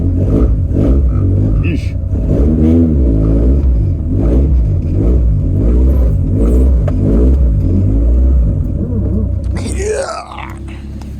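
A Toyota AE86 engine runs with a deep, throbbing, uneven idle and revs up and down close by. A person makes a brief remark near the end.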